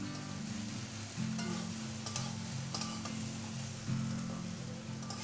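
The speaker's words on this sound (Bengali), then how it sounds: "আবার একটু নেড়ে চেড়ে দেব।" Taro stolons cooking in a pan give a steady frying sizzle with occasional soft scrapes of stirring and a low hum underneath, close and moderately loud, with no talking.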